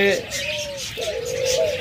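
Doves cooing at a bird farm, two drawn-out rising and falling coos close by, with faint background chatter from other birds.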